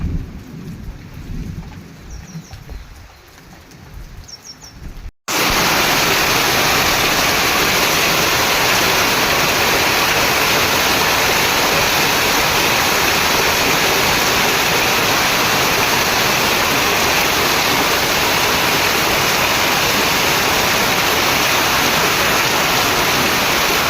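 Quiet ambience briefly, then heavy rain suddenly roars in, a dense, loud, steady downpour that continues unbroken to the end.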